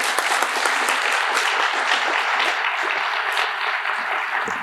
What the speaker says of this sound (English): So we'll have a big round of applause